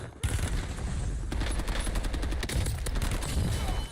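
Automatic gunfire in the Black Ops battle royale video game, rapid bursts of shots cracking loud and close over a dense, steady din.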